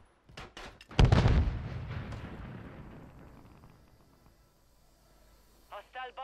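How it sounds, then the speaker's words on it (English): Stun grenade going off in Call of Duty, a sharp loud blast with a few quick pops before it and a long decaying ring after, followed by brief voice chatter. "He's throwing a stun grenade."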